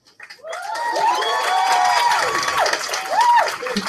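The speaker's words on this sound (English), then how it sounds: "They deserve all of that applause." Students at a school community meeting are met with applause and rising cheers, as voices call out in long whooping tones over a bed of clapping that swells after a quiet start and stays strong throughout.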